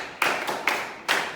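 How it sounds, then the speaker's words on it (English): A classroom group clapping during an electrolysis lesson: four short, distinct bursts of claps in a quick, uneven rhythm, close and fairly loud, with no talking. "Please clap on."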